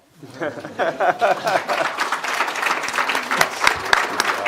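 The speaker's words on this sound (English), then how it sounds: "That's the time for applause now." Applause breaks out from the audience at a business panel discussion on cannabis, swelling quickly after a brief quiet moment, mixed with some voices and light laughter over the steady clapping.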